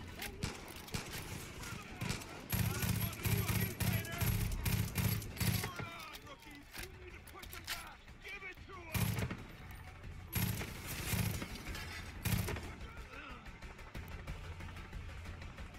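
Gun firing with heavy recoil in Far Cry 5, rapid bursts of automatic gunfire in several strings with pauses, mixed under game sounds and people talking.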